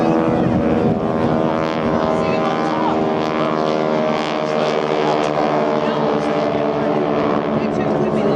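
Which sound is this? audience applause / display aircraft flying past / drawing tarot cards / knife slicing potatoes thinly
display aircraft flying past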